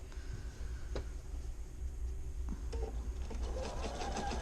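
A sewing machine runs a reinforcing seam along the crotch of Simplicity 2481 pants, a continuous low motor hum with fine rapid ticking of the stitching, growing a little busier toward the end.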